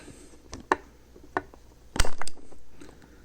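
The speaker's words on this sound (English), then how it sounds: "I'm gonna get it in there with my flathead screwdriver. As I push it in a little bit." A flathead screwdriver presses a hard plastic pivot cup insert into a roller skate, giving a few sharp, close clicks and creaks, then a louder scraping push near the end, with no talking.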